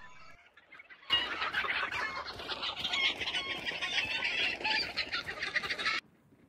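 Several chickens in the video game Hunt: Showdown cluck and squawk continuously at moderate volume, a busy overlapping chatter of fowl that cuts off abruptly.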